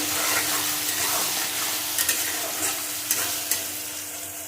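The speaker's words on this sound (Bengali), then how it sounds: "পেঁয়াজের সাথে টমেটোর উপরে লবণ দিয়ে দেবো এইভাবে ভালো রকম কষিয়ে নেবো আমি" Onion and tomato sprinkled with salt sauté in a pan with a steady, close sizzle. Occasional scraping clicks from stirring break through the frying hiss.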